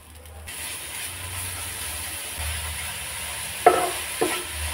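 Grated coconut and jaggery filling being stirred in a pan, a soft steady sizzling hiss with two sharp utensil scrapes near the end, close and fairly quiet.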